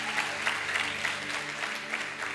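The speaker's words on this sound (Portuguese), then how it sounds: "Você pode aplaudir Jesus se você crê nisso?" Congregation applause during a church sermon, a steady wash of clapping with a low sustained musical hum beneath it, moderately loud and without speech.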